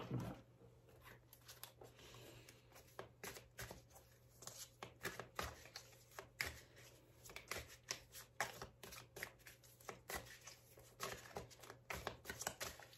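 Tarot cards are shuffled for a love reading, giving a steady run of riffling, slapping card flicks up close, with a faint hum beneath and no talking.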